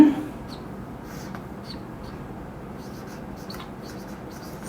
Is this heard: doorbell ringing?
no